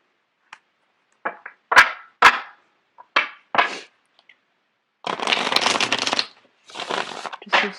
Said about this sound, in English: I'm going to get the cards shuffled out.